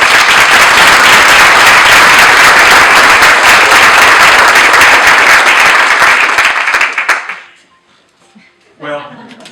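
Loud, sustained applause from an audience at a chamber of commerce awards event welcomes the winners, steady clapping filling about seven seconds before fading out, followed by a brief murmur.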